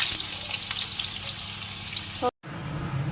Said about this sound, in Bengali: এবারের মধ্যে একটুখানি আলুগুলো ভেজে তুলে নেবো আগে